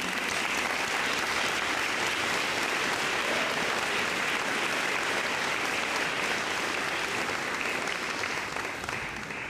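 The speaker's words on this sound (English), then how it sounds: "please join me in clapping." A large audience at a school commencement claps loudly and continuously in dense, sustained applause that holds steady and tapers only slightly at the end.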